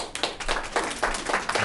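Applause from an audience at a city council meeting, a dense run of handclaps with no talking, moderately loud and fairly close.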